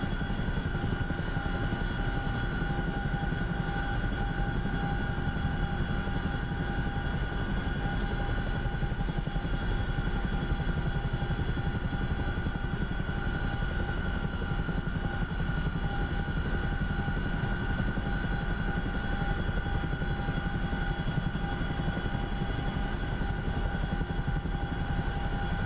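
A Chinook twin-rotor helicopter in the DCS flight simulator game, a steady loud cockpit drone with constant engine whine and rotor rumble holding unchanged throughout, with no voices.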